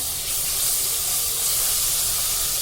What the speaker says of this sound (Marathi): आलं लसणाची पेस्ट घालून झाल्यानंतर ती थोडीशी आपण परतून घेऊया